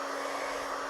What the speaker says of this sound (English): look at what a blow dryer does to my hair with no nozzle